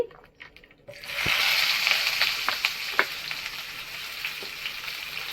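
Chopped onion hits hot oil already seasoned with dried red chillies and nigella seeds. After a short quiet start there is a sudden loud sizzle, which settles into a steady close crackle with a few spoon clinks against the pan.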